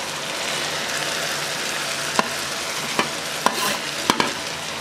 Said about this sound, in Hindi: अच्छे तरीके से मिक्स करके फ्राई करेंगे।